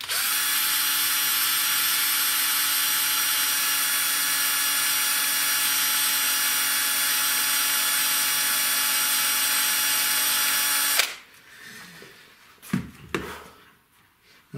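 A large cordless drill with a small 0.8mm bit runs steadily and loudly for about eleven seconds, a sustained whine, then stops, leaving a few light handling knocks and clicks.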